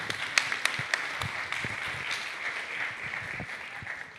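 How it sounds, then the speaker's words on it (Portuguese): Scattered audience applause for a presenter at a talk on open data and postal routing codes in Brazil, a thin, fairly quiet patter of hands with a few sharper individual claps over a steady wash. "Uma salva de palmas para ele."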